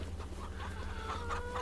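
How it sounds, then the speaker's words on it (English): Farm chickens clucking in Farming Simulator 25, a steady stream of close, overlapping clucks and fowl chatter over a low background hum, with no talk. "We just got some chickens last time."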